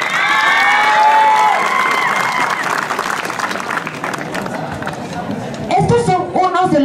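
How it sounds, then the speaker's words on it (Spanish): Applause and cheering at a school's anniversary celebration for a group of students, a loud crowd clapping with shouts and children's voices, then a voice speaking over the tail end. "También voy a pedir un fuerte voto de aplausos para el grupo de alumnos que nos van a representar."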